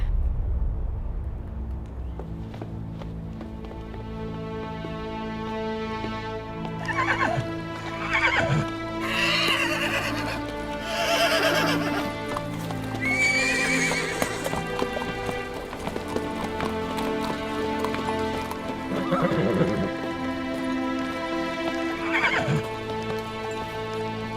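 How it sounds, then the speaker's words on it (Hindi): An unwell mare in a historical drama scene neighs several times while her hooves clip-clop steadily, close and clear over a continuous musical score. "बाला खातून, आपकी घोड़ी। क्या हुआ लाजा को? वो ठीक नहीं लग रही"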